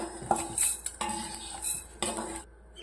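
A metal spoon scrapes and clinks against a pan several times, scooping out dry roasted rice grains with light rattling, close and moderately loud.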